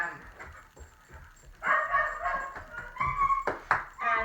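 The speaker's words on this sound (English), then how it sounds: "that dog that you hear in the background that's barking all over the place" A dog barks in the background, giving a few short, sharp barks and yips in two loose bursts over a low, muffled indoor backdrop.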